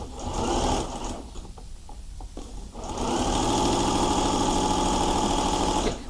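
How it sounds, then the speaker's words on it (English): An overlocker serges the uneven edge of a side pocket on a teen dress, humming loudly and steadily up close, with a short slowdown partway through before running at full speed again. "the next step is then to overlock it, and you just overlock off what's slightly uneven"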